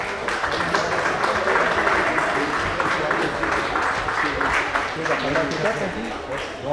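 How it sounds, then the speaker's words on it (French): Crowd applause for a fourth-place finisher at a mountain bike race event at Isola 2000, steady outdoor clapping running underneath an announcer's voice, moderately loud throughout. "Sans oublier Théo Bertarini, on peut l'applaudir Théo Bertarini, il est 4e, il est là Théo."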